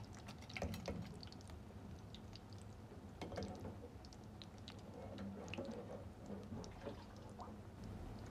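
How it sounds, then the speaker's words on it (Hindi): Fried dahi bara lentil dumplings are dipped into plain water, giving soft, faint wet squishes and small drips over a steady low background hum. "बस अब मैं इसको पानी में जो है इसको डिप कर रही हूँ"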